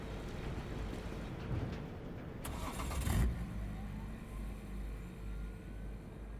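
A car engine starting in the video game Cyberpunk 2077: a short burst of cranking and ignition midway through, over a steady low engine hum and faint ambient rumble, fairly quiet overall.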